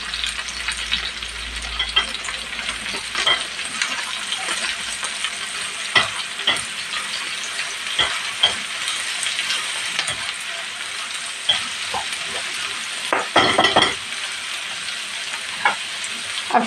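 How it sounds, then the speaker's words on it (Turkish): Onion, carrot and garlic fry in a pan with a constant bright sizzle, broken by occasional scraping and stirring knocks from a utensil, close and fairly loud. "Soğandan havuç biraz kavrulsun."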